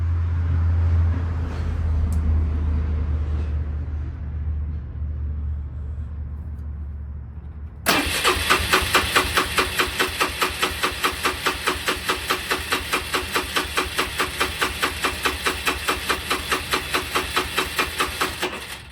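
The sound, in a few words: Polaris Sportsman 300 engine cranking at wide open throttle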